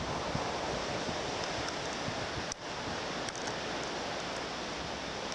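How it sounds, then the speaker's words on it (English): A rippling stream in a quaint Alaskan mountain valley ringed by 7,000-foot peaks, heard as a steady, full broadband wash of running water with a brief dip partway through, no voices. "rippling stream"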